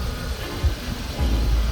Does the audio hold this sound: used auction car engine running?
yes